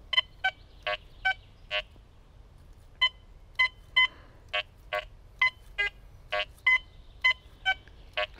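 Short bright electronic beeps from a Quest X10 IDmaxX metal detector over a target at 26 cm depth, around eighteen pulses in a fairly steady, slightly uneven rhythm, close and clear with no voices.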